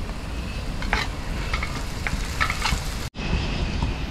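Chopped chillies hit hot oil in a pan while cooking beef heart outdoors in a village kitchen, giving a steady crackling sizzle with stirring scrapes, briefly cut by a short dropout near the end.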